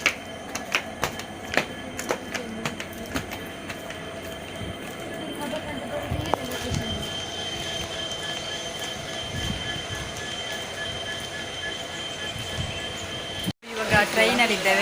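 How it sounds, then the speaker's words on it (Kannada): Onboard a train travelling from Kabaka, Puttur to Mangalore, with a steady rolling rumble of wagons, rattling wheels and repeated sharp clicks over the track, then a brief dropout followed by louder clatter near the end. "ಇವಾಗ ಟ್ರೈನಲ್ಲಿದ್ದೇವೆ"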